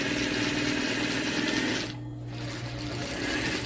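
Sewing machine running steadily and loudly while stitching a gathered fabric ruffle onto a bodice for a girl's dress, with a brief slowdown partway before the motor continues at a lower, even whir.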